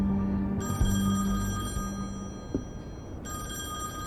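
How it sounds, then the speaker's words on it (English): An old-style telephone bell rings in The Wolf Among Us, a steady electronic trill with a brief pause before it starts again, loud and close. "It's my phone"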